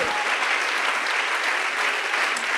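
Church congregation clapping loudly and continuously, a dense, even roar of many hands with no pauses.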